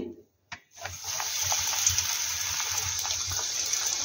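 Cornflour-coated chicken pieces for lemon chicken drop one at a time into hot oil, and after a short pause a loud, steady sizzling hiss starts up and carries on close by, with no talk.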